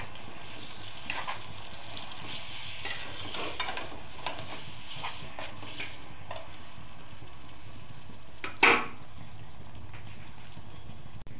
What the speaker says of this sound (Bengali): এইভাবে মিক্সিং করে নিচ্ছি।